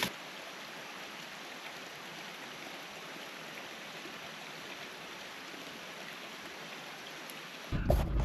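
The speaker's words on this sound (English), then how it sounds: "Woke up to it just absolutely pouring down rain." Heavy rain pours down steadily in the Cohutta Wilderness, a dense, even hiss of rainfall at moderate distance, with a louder burst of close patter or rumble at the end.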